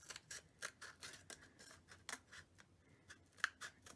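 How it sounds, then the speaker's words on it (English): Scissors snip through paper along a drawn line in quick, close, crisp cuts, a rapid irregular series of faint clicks with no talking. "you can use this space to get your scissors in"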